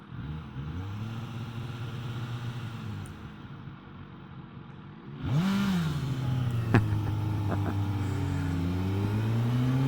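During a street race a car engine idles low and steady, then rises into a revving acceleration whose pitch climbs and sweeps as the car pulls away.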